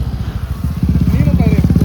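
A superbike engine revs with a rapid, throaty pulsing, close and loud, over a steady rumble, at an auto expo.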